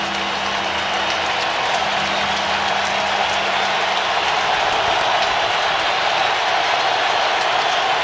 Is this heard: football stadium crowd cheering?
yes